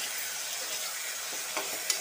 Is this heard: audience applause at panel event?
no